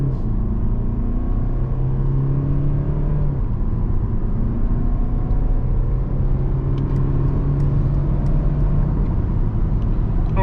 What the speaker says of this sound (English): let's try some acceleration